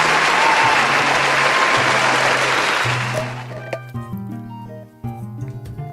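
Dense applause and cheering fill the first three seconds, then fade out under a sustained synth and piano-like musical sting.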